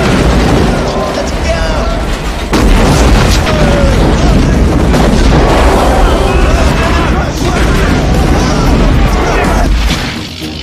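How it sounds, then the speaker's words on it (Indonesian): Heavy booming blasts and crashing rumble fill the scene, loud and dense, with a voice speaking over the explosions. "akhirnya dia meledak dan merusak segala saluran listrik di sana"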